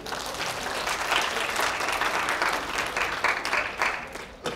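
An audience at a children's science lecture in Incheon breaks into steady, dense clapping that carries on for several seconds at full strength before tapering off.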